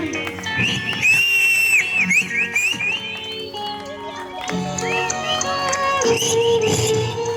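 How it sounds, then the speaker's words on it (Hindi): Sharp, high whistles from an audience at a senior citizens' get-together ring out repeatedly over a lively, noisy backdrop of music and voices, rising and falling in short bursts. "सीटियां बजाओ भाई।"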